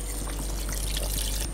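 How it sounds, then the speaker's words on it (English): Water poured into a pot of Iranian stew in a pressure cooker, a continuous close, splashy trickle and gush that holds steady for about a second and a half, with no voices. "Finally, I will add water."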